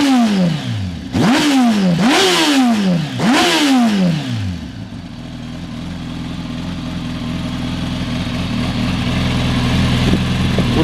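A Kawasaki ZX10 motorcycle engine revs hard three times in quick succession, each rev rising and dropping sharply, then settles into a loud, steady, rumbling idle close by.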